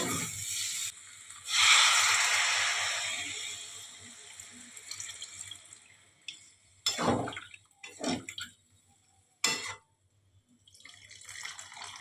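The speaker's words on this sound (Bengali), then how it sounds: "এবারে আমি জল দিয়ে দেবো।" Water is poured into a pot of potato curry (aloo dum) while cooking, giving a brief splashing pour followed by quieter sloshing and a few sharp clinks and knocks from the pot, close with no talking.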